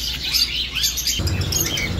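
Yellow-cheeked cockatiels and other parrots in a pet shop give a steady mix of close, bright chirps and tweets, with overlapping calls and a low background rumble.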